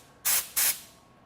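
Two short, loud bursts of air hiss from a Sunex air blower fitted with its small tip, each lasting about a third of a second with a brief pause between, close up and with no talking.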